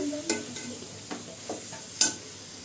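Cooked jeera rice is gently folded with a spoon in a pot, giving a few soft, spaced scrapes and light taps over a quiet, faintly hissing kitchen background.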